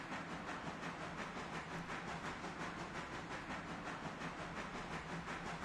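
A train engine in the Railroader video game, giving a continuous dense hiss and rumble with a faint rhythmic pulse, steady and loud for the whole stretch with no talk.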